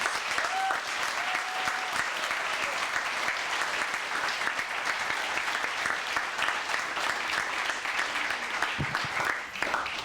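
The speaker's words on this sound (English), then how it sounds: "How about one more round of applause for all of our new citizens?" Steady, dense applause from an audience at a U.S. naturalization ceremony honoring new citizens, sustained at an even level for about ten seconds.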